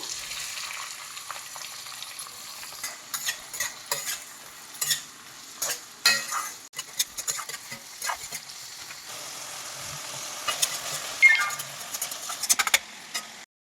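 Chopped onions and mustard seeds frying in hot oil for a Nellore-style fish curry, a steady close sizzle broken by repeated scraping and clattering from stirring, with no talking.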